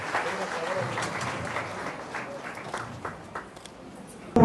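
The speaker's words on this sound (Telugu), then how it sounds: "అందరూ చప్పట్లు" Audience applause at a hall ceremony distributing mobile phones to women's self-help group members, a short spell of scattered clapping under a speaker's voice.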